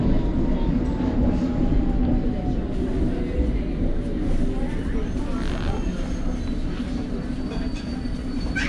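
A London Underground Hammersmith and City Line train runs along the track, a loud continuous roar and rumble with rattling and squealing wheels, heard from inside the carriage with faint voices in the background.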